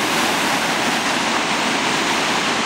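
Polluted mine tailings water, laden with heavy metals, rushes and foams into a river in a steady, loud, unbroken roar with no voices.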